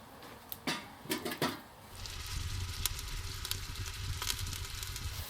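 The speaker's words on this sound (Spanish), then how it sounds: "vamos a echar una buena cantidad de aceite de oliva, lo vamos a poner todo al fuego y vamos a dejar que se poche" Onion poaching in a generous amount of olive oil over the heat starts to sizzle after a few clattering knocks of ingredients going into the pan, then settles into a steady close frying hiss.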